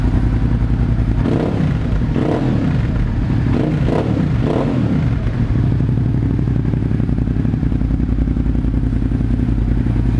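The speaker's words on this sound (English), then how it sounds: "We'll see what this Yosh pipe sounds like." 2007 Suzuki SV650S, a fuel-injected 650cc twin sport bike with a Yoshimura exhaust, idling close with a steady throbbing burble and a few quick throttle blips early on, loud and alone.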